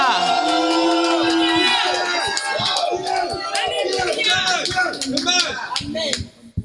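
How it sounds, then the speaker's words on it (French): A congregation at a Friday prayer gathering shouts and cries out for joy, a loud, dense wash of overlapping voices and cheers that fades toward the end. "On peut pousser des cris de joie."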